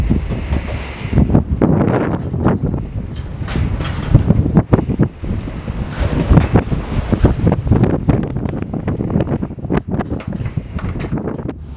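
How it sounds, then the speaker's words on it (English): Strong windstorm gusts of up to 40 knots batter the microphone at an outdoor art installation site. They roar in loud, continuous bursts that swell and fade throughout, with no voices. "recording this in a windstorm shortly after we installed it"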